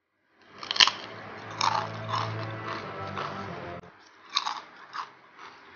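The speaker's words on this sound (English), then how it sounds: "So you get that little extra crunch because it's wavy." Big wavy Lay's potato chips are bitten and chewed close up: a sharp, loud first crunch, then a run of crackly chewing bursts, a short lull and a few more crunchy bites.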